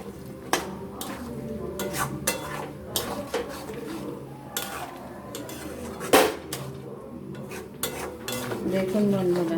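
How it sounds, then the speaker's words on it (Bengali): Chicken curry being stirred in a pot with a metal spoon, the meat cooked down until its oil separates: repeated scraping clinks and knocks against the pot over a soft sizzle, fairly close, with no talking. "মাংসটাকে কিছুক্ষণ নেড়ে দিলাম"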